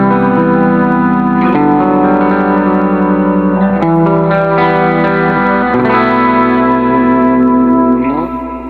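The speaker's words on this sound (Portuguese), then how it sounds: "Então esse é o meu som do meu reverb pós-amp." Sustained electric guitar chords played through an HX Stomp with post-amp reverb and modulation, loud and washing with long ringing tails as each chord shifts.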